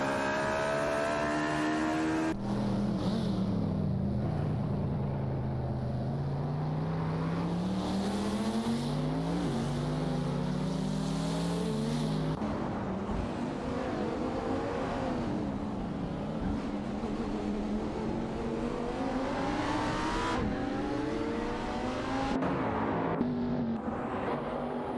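Racing cars in a video game, including a Ferrari J50 and a Ford Falcon FG GTF, engines revving and shifting in rising and falling pitch sweeps, steady and loud throughout with overlapping cars passing.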